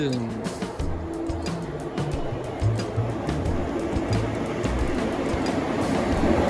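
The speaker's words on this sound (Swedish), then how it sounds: "Här kommer tåget!" A train rumbles into a station at night with low mechanical drone and steady noise, voices talking over it throughout.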